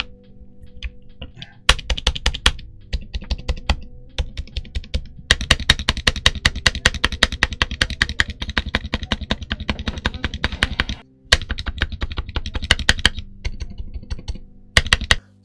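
Rapid typing on a Gamakay TK75 mechanical keyboard, dense bursts of crisp clacky keystrokes in runs separated by short pauses, heard up close.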